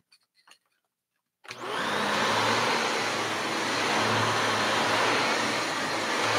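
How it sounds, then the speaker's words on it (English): A few faint clicks, then a Shark Navigator Lift-Away Deluxe vacuum cleaner switches on and runs with a loud, steady whooshing roar. "There is Shark Navigator Liftaway Deluxe. Still runs good."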